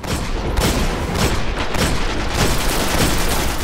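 Loud, dense rapid gunfire from the Destiny video game, a sustained barrage of close overlapping shots and booms with no gaps.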